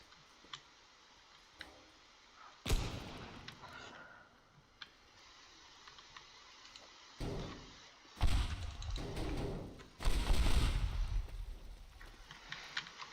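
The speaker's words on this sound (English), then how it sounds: "Yeah, that was a lot of explosions." Explosions in the video game Teardown burst out as sudden broadband blasts, one sharp hit early, then two heavier booms with rumbling tails later, between quieter ticks and clicks of game debris.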